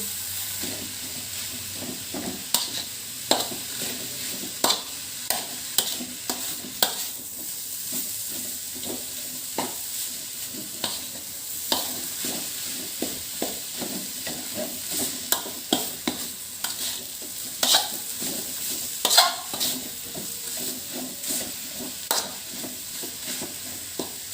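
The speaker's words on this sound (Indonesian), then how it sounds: "Yang penting kelapanya harus kita aduk sampai mengering." Grated coconut is stirred as it fries dry in a pan, giving a soft continuous sizzle with repeated scraping and clicking strokes of the spoon throughout.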